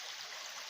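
Steady broadband rush of a river flowing through woodland, its water running grey and discoloured, heard as a close, continuous wash with no voices.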